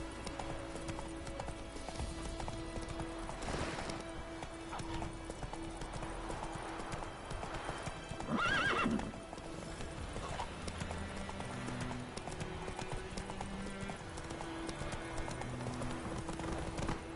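Roach the horse from The Witcher gallops with steady, close clip-clop hoofbeats, a brief whinny and a louder burst midway over ambient game music and wind.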